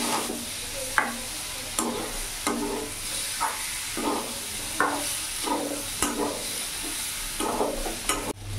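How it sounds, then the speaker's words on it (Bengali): Fried cauliflower stirred through a thick masala in a pan for an aloo-phulkopi dalna: a steady sizzle with repeated scraping stir strokes at a regular, roughly once-per-second rhythm, close and fairly quiet. "এবার এখানে ভেজে রাখা ফুলকপিগুলো আমি দিয়ে দেবো। ভালো করে নাড়াচাড়া করে নিলাম।"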